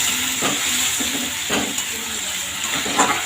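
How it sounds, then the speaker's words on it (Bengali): Water poured into a hot pan of potato and pointed gourd curry sets off a steady broadband hiss, with a few soft utensil knocks spaced through it. "এবার দিয়ে দিলাম বেশ কিছুটা পরিমাণে জল,"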